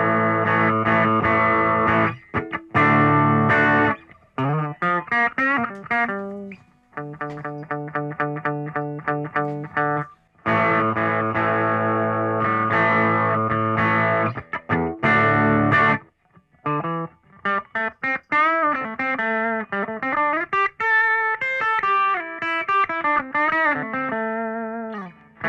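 Electric guitar run through a Leo Jaymz IR box on preset 17, playing distorted chords and single-note riffs with chorus-like shimmer, loud and close, with short gaps between phrases and no talking.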